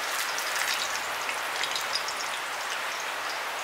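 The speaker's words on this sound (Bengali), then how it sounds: "আমি প্রথমে শুকনো লঙ্কাটা ফোড়ন দিয়ে দিলাম" Dry red chilies crackling as they temper in hot oil for a paneer kofta curry, a steady close sizzle with fine spattering that never lets up.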